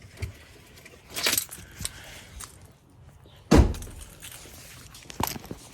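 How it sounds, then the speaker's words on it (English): Car keys jangle in a few short bursts, with one sharp metallic jingle in the middle, nearby and fairly loud against a quiet background with small knocks and handling noises. "Grab my keys."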